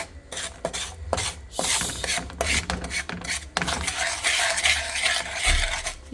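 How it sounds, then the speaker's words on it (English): Coconut candy mixture stirred in a pot for a three-ingredient Nigerian snack, giving continuous close scraping and rasping with rhythmic strokes of the spoon against the pot, steady and fairly loud throughout with no talking. "We keep stirring until it's become brown and liquid."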